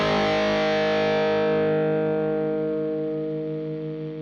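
Electric guitar through a Fractal FM3 amp modeler set to a distorted high-gain tone, a single loud chord struck and left to ring, its bright overtones gradually decaying over about four seconds.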